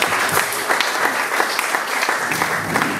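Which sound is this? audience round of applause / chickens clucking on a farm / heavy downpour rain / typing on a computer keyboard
audience round of applause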